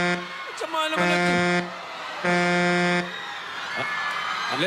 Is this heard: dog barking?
no